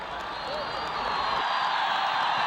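Stadium crowd roaring at a football match between Hazara and Tajik teams in Gazi Stadium, Kabul, Afghanistan; a dense, steady wash of cheering that swells slightly louder and holds throughout.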